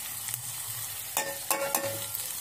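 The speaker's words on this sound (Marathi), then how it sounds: "तेलात आपल्याला चटणी भाजून घ्यायची आहे" Homemade chutney frying in oil for a masoor dal amti, a low continuous sizzle broken by a few sharp stirring scrapes, close and moderately quiet with no voices.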